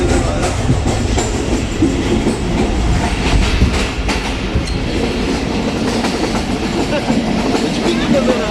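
A moving Karachi Express train in Pakistan, heard from inside the AC business class carriage: loud, constant rumbling with rhythmic clickety-clack of wheels on rails.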